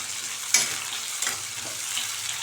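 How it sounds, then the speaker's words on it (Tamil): Sliced onion and a sprig of curry leaves sautéing in a pan for fenugreek kulambu, a steady close sizzle with a sharp spoon clack near the start and light stirring scrapes throughout, no talking. "வெங்காயம் ரொம்ப வதங்கணும்லாம் தேவையில்லை, நம்ம லைட்டாக வதங்கினாலே போதும்."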